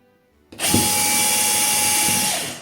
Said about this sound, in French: En mode perçage sans percussion, on perce.